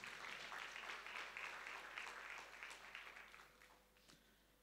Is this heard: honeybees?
no